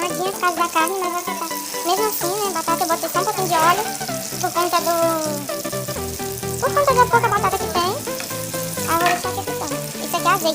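Potatoes fry in a pan with just a little oil, giving a steady, close sizzle with stirring, heard under tonal background music throughout.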